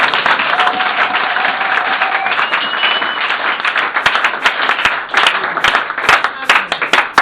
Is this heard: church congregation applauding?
yes